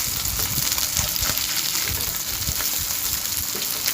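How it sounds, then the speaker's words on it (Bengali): Small mourola fish fry lightly in mustard oil, a steady close sizzle with crackling pops throughout, no talking over it. "এবারে মোরলা মাছটা হালকা করে ভেজে নেব"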